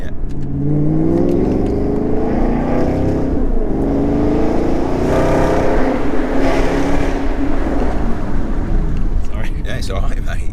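Maserati Gran Turismo S exhaust roaring loudly as the car accelerates through an underpass, its rising engine tones sustained and close throughout, with people talking over it.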